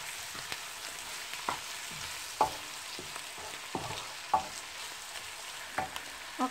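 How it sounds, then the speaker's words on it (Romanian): Onion and pepper fry softly in a pan for a Romanian gizzard stew, a low steady sizzle broken by repeated scraping stirs of a utensil at regular intervals. "Ceapa împreună cu ardeiul s-a înmuiat, s-au călit foarte bine."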